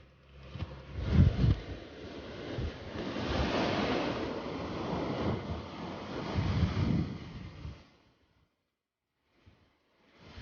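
Strong coastal wind of 120 to 130 km/h buffets the microphone while waves crash on the shore in rolling surges, the roar building and fading before dropping to near silence.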